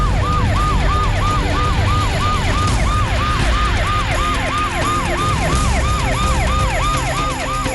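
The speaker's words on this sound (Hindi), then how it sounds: "कल दिल्ली पुलिस के सैकड़ों जवानों ने बाइक और जिप्सी पर डॉक्टरों, नर्सों और पैरामेडिकल स्टाफ के जज्बे को सलामी देने के लिए एम्स की परिक्रमा की।" Delhi Police sirens wail in a steady, repeating rise-and-fall as motorbikes and jeeps circle the AIIMS hospital grounds, loud and continuous over a dense bed of traffic and crowd noise, with no one speaking.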